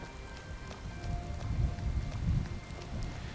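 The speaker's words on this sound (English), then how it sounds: "Get out of the rain for a while." Rain falling in Skyrim, a steady patter and wash of drops on the ground, with soft rumbling gusts swelling and easing at a moderate, close distance and no one talking.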